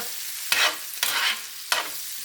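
Butter sizzles in a big iron pan on a small stove, a bright, close hiss that swells in three strong bursts as it is pushed around, with no talking.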